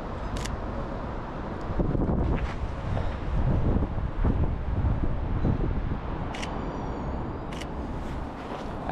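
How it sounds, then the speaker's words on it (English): Strong wind gusts through a winter street in Sweden, buffeting the microphone with a steady roar. A few faint clicks sound over the wind. "Oh, it's like a wind tunnel."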